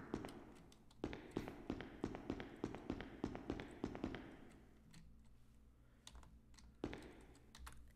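Computer keyboard keys clack in a quick run of close, sharp taps while a video game is played, then pause and resume with a few isolated presses; quiet and near, no talking.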